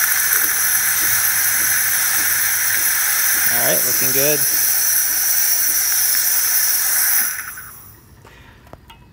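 Steam hissing steadily from a Saeco Intuita espresso machine as its pump pushes out hot water and then steam, a loud continuous hiss that cuts off near the end, with a brief spoken remark partway through.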